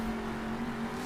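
A monster truck engine held at full power in a video game, a steady droning roar with a constant pitch, close and alone without talk.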